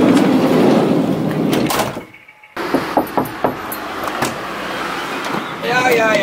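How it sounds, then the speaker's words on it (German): A camper van door sliding shut with a heavy thud that cuts the background noise to near silence, followed by faint knocks and clicks inside the van, with voices heard before and after. "Aber mach mal die Tür zu."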